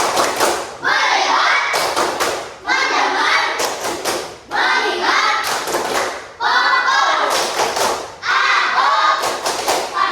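A class of fifth-grade pupils performs the rhythmic concentration clap, loud group claps in repeated patterned bursts with short pauses between rounds, close and filling the room, with some children's voices mixed in.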